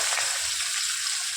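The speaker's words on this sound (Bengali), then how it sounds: "এটা ভালো করে নাড়াচাড়া করে ভাজবো" Bay leaves and dried chillies frying in hot oil for a chicken dish, giving a loud, continuous close-up sizzle with a bright crackling hiss and no pauses.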